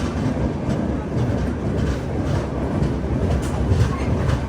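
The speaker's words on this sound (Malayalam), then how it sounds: "ബൽഹാർഷ റെയിൽവേ സ്റ്റേഷനിലേക്ക് ഇതാ നമ്മുടെ ട്രെയിൻ എത്തിക്കൊണ്ടിരിക്കുകയാണ്." The Grand Trunk Express pulls into Balharshah station with a continuous close rumble of wheels and carriages and soft rhythmic clatter, steady throughout.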